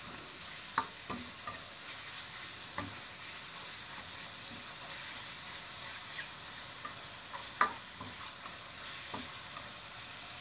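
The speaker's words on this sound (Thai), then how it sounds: "ช่วงจังหวะผัดต้องไปแรงนะพี่น้องนะ จังหวะผัดต้องไปแรง" Chicken with holy basil is stir-fried in a wok, a steady quiet sizzle running throughout while a spatula scrapes and taps the pan in occasional sharp clicks, with no voices.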